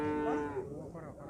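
A cow at the Uchkun livestock market in Osh gives a short, low moo, close and fairly clear, fading out within about a second.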